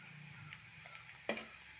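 Ginger frying and being stirred in a pan for tomato chutney, a soft steady sizzle with a brief louder scrape or clatter of the spoon near the end, no talking.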